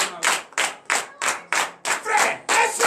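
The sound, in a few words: clapping and cheering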